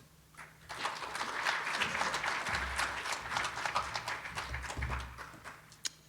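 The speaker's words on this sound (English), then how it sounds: "please help me welcome Jim Sorensen." A conference audience at a Bakken technology session applauds to welcome a speaker, a burst of many hands clapping that swells quickly, holds for several seconds, then fades, heard from within the room.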